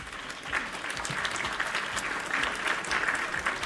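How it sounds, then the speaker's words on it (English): A crowd gives a steady round of applause lasting several seconds, with many claps blending into a sustained wash that stays fairly even throughout. "Let's give her an applause."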